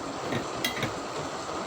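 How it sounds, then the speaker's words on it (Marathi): Semolina (rava) being stirred and roasted in a pan for upma, with a soft continuous scrape and a couple of sharp metallic clinks of the spoon against the pan, close and without talk. "रव्याला चांगलं परतून घेते."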